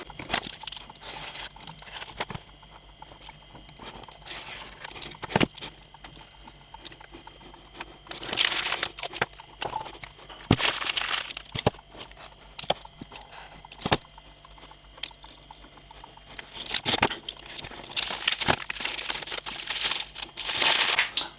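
Propeller blade templates being cut out by hand, heard as irregular crinkling and snipping bursts with paper or sheet handling noises, close and moderately loud with no talking.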